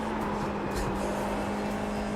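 A race car engine laps Donington in iRacing, a steady loud drone of engine sound holding at an even pitch throughout.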